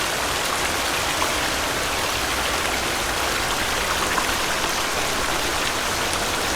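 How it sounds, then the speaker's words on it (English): Loud, steady rush of cave water in the survival game The Forest, a continuous broadband roar that fills the whole stretch without a break and sounds close by, with no talking over it. "Water is loud."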